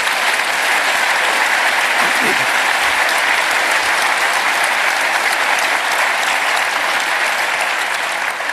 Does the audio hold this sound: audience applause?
yes